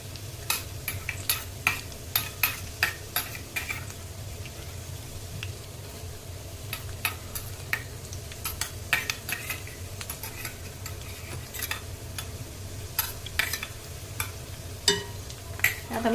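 Garlic, ginger and green chillies fry in a pan, a steady low sizzle running throughout while a spoon stirs and scrapes against the metal in frequent sharp clicks and taps, close and fairly loud.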